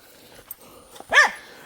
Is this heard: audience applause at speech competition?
no